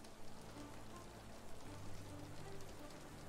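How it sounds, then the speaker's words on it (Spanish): Steady rain in the video game Sherlock Holmes: The Awakened patters on a surface in a soft, even hiss, fairly quiet and continuous throughout. "está lloviendo"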